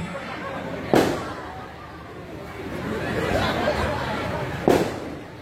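Two sharp firecracker bangs pop a few seconds apart over a steady murmur of crowd chatter in the background.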